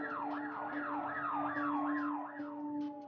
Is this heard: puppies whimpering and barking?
no